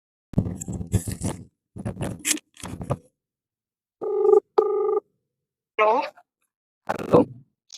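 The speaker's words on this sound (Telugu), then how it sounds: "జన్నికి ఫోన్ చేసి నేనంటే ఇష్టమా లేదా అని అడుగు." An outgoing telephone call rings twice, back to back, with a steady electronic ringback tone. Brief stretches of talk come before and after the rings.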